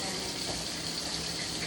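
Water runs from a kitchen tap in a steady, even hiss that lasts the whole moment, with no voices over it.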